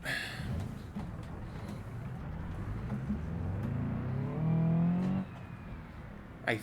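A low-powered car engine revs in BeamNG.drive, a droning rise in pitch that holds loud near the end, then cuts off abruptly and is followed by a brief thump.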